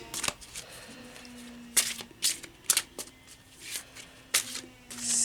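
Large oracle cards being shuffled by hand, a run of crisp riffling bursts and soft slaps at irregular intervals, close and fairly quiet with no talk.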